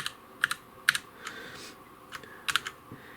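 Typing on a Redragon Parvati K591 mechanical gaming keyboard produces close, crisp key clicks in short irregular bursts with brief pauses between them.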